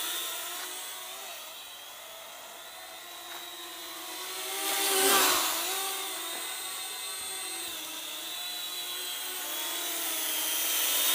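A JJRC H37 Elfie foldable quadcopter drone hovers in place under altitude hold, its propellers making a continuous high buzzing whine that stays fairly steady and swells briefly as it shifts position.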